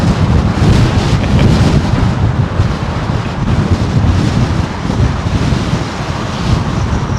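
Strong wind at London Heathrow Airport, loud continuous buffeting and roaring across the microphone with gusty surges and low rumble throughout, no voices heard.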